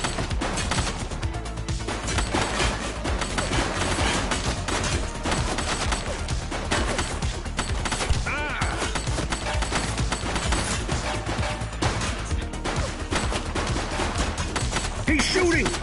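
Gunfire in the police game The Precinct: continuous, clattering shots and impacts run throughout at a fairly loud level, with occasional voices mixed in.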